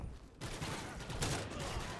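Rapid, dense video-game gunfire in infected mode on the Arkaden map, with loud, overlapping bursts that continue almost without a break.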